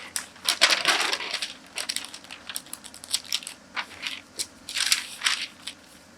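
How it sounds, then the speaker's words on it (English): A tracing wheel rolls over pattern paper while marking a dart intake and trued hem line, giving close, dry crinkling and papery scratching in short uneven strokes and bursts, quiet overall with no talk. "Using our tracing wheel, which now tells us that this is where my dart intake was and my true line."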